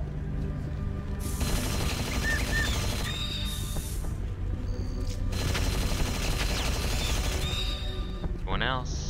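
Sustained automatic gunfire in the video game Unreal Gold's Return to Na Pali campaign, dense rattling bursts running almost the whole time with mechanical clicks and weapon whines layered in, loud and close, with a player's voice talking over it.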